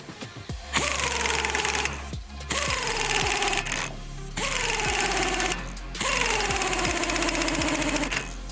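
Loud bursts of a whining power tool sanding an aluminium brake disc protector for a Toyota MR2 ZZW30, four long passes separated by short pauses, each pitch sagging as it bites.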